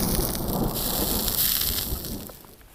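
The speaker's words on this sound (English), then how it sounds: "And we got rain coming." Steady rain pours down at a night camp, a dense hiss drumming on surfaces with low rumbling beneath, fairly loud and continuous before easing slightly toward the end.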